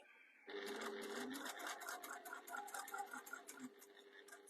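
Domestic sewing machine stitching a jewellery pouch, a rapid rhythmic mechanical clatter of needle strokes starting after a brief pause and running steadily, close and moderately loud.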